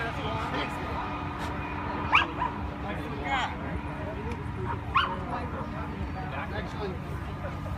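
A police K9 drug-detection dog yips and barks in a few short bursts, mid-distance, against a steady busy background with people talking around it at a demonstration show.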